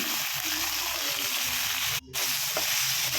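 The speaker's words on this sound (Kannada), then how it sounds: "ಕ್ಯಾಪ್ಸಿಕಮ್ಮು, ಬ್ಯಾಡಗಿ ಮೆಣಸಿನ್ಕಾಯಿ, ಈರುಳ್ಳಿ ಫ್ರೈ ಮಾಡ್ಕೊಳ್ಳೋಣ." Capsicum, byadgi chillies and onion fry in a pan with a steady, close broadband sizzle that runs throughout, briefly cut by a short gap near the middle.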